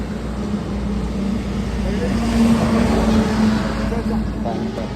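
A road vehicle weaving along a road gives a continuous rumbling drive noise that swells slightly midway. A muffled voice sits under it.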